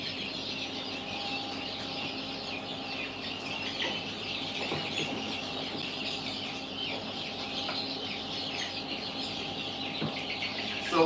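Chickens clucking in a poultry barn near egg incubators, a steady busy murmur of soft clucks and calls throughout, with no one speaking.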